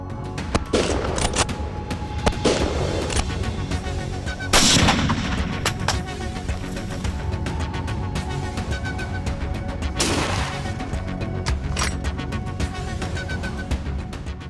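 Winchester .308 rifle shots during a wild boar hunt outdoors, several loud sharp reports with long booming tails spread across the clip over a continuous background.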